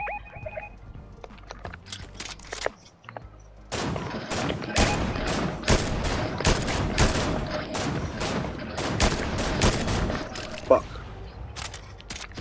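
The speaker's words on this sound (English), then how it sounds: "Fucking shots aren't hitting any of them." Gunfire in Fortnite, a few scattered shots at first, then a dense stretch of rapid sharp cracks and bursts at close range, with a voice speaking at times among the shots.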